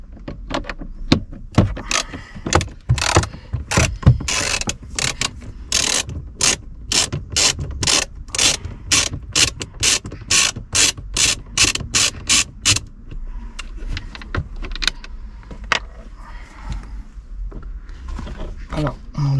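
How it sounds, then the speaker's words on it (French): A Torx T20 screwdriver backs out screws from the glovebox of an Opel Astra H, giving rapid ratcheting clicks in close bursts that stop near the end, followed by quieter handling sounds. "il faudra prendre une Torx de 20 en fait, comme ceci. Donc on va commencer par les dévisser."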